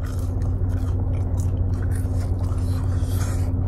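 Close crunchy chewing of a Zaxby's fry dipped in ranch, soft repeated bites and mouth noises over a steady low electrical hum, without talking.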